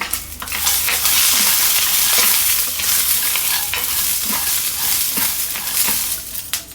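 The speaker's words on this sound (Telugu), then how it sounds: "ఇలా కొంచెం ఫ్రై చేస్తాను" Roasted peanuts and green chillies fry in a hot pan, giving a loud, continuous close sizzle with faint scraping and stirring knocks throughout.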